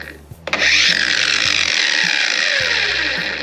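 A Black & Decker cordless angle grinder soft-starts with an abrupt click, then spins up into a loud, sustained high whine that slowly sags, while a voice talks faintly underneath.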